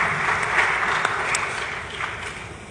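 Conference audience applauding a panel speaker at a Moroccan single-window trade forum: continuous, even clapping from a seated crowd that holds steady and slightly fades toward the end.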